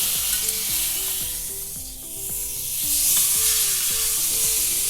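A leg of lamb sears fat side down in a hot pan, giving off a loud, constant hiss of sizzling fat, with light music playing underneath.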